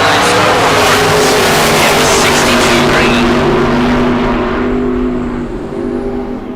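Bracket drag race cars launch down the strip at a big-money bracket race, engines roaring loud and close in a sustained, rising blast that fades as they pull away.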